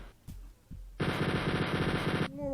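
Rapid automatic gunfire from the video game Wolfenstein 3D, a loud sustained burst of about a second and a half, preceded by a couple of softer single thumps and ending abruptly.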